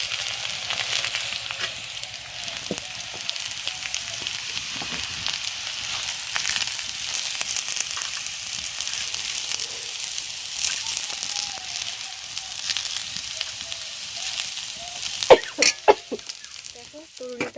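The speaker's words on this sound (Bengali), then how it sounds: "তরুলিটা ভাজা হতে হতে ততক্ষণ আমি ভাতটাও ধরে রেখে চলে আসি" Taruli fries in hot oil in a pan, giving a steady loud sizzle that continues throughout, with a few sharper crackles and pops near the end.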